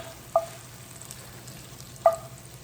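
Onions frying in butter in a pan give a steady, low sizzle throughout, broken by two brief clinks of a utensil against the pan.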